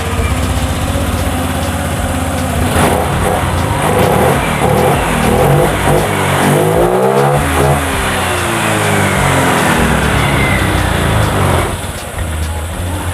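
A fuel-injected motorcycle engine runs after a throttle body service, idling steadily and then revving up and back down in a loud, close mechanical drone with no talk over it.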